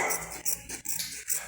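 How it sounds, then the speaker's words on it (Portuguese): A small pet dog barks once or twice at close range indoors during a rag doll and plush toy sewing lesson, brief sharp yaps over a faint background hiss. "Minha cachorrinha resolveu dar um latido para atrapalhar a nossa aula"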